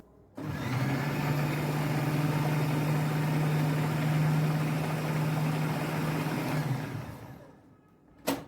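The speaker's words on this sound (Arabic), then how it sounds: "وهنضرب كل ده في الكبه ضربه بسيطه جدا" An electric food chopper whirs steadily for about six seconds, blending eggplant and other baba ghanoush ingredients in a kitchen, then winds down with a brief clunk at the end.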